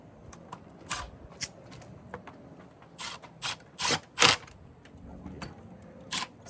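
A ratchet tightening the coil pack bolts on a 2009 Ford Escape, close, sharp clicking bursts in irregular short runs with quiet pauses between strokes.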